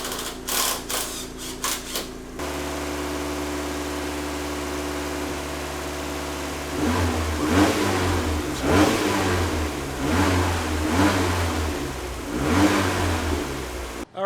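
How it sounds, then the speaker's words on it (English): A turbocharged Mazda Miata's newly installed engine idles with a steady low drone while warming up, then revs up repeatedly in rising and falling surges, loud and close, with no talking. "right now I'm going to let the engine warm to operating temperature"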